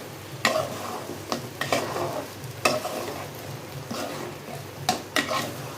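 Chicken liver dropped into a pot of chicken feet and chana dal curry, giving a sizzle and several stirring scrapes and clatters against the pot, close by and with no talk.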